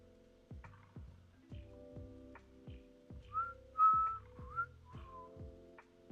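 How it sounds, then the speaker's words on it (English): Someone whistles a few short, bright notes close into a microphone during a live chat stream, over a quiet background of repeating ticking and plucked tones. "I am so sorry for whistling into the mic"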